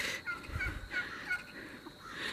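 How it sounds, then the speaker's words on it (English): Turkeys gobbling among chickens on a small farm, repeated rattling gobbles in quick bursts, fairly loud and close, with low rustling and no talking. "Here's a shot of our chickens and turkeys."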